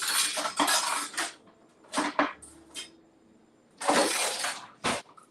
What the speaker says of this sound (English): get a spoon and start stirring up my